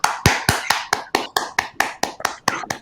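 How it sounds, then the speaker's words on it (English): About a dozen sharp, evenly spaced claps ring out in a steady rhythm, loud and close. They sound like a single pair of hands giving a virtual round of applause at the close of an online session. "I would give everyone a final virtual round of applause"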